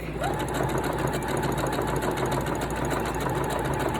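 A sewing machine back-stitching the edges of a knit fabric mask, a fast, steady mechanical whir and rapid needle ticking up close, with a voice speaking faintly.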